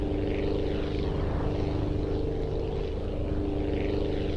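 Propeller airplane in Aviassembly diving toward its own runway, a steady loud engine drone with strong low harmonic hum and airflow roar, continuous and close throughout.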